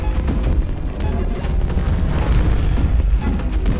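Bombs explode in a hack-and-slash fight in the game Songbringer, a run of dense booming blasts and crashes layered closely together, loud and rumbling.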